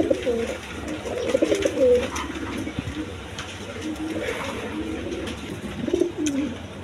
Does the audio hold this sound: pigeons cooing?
yes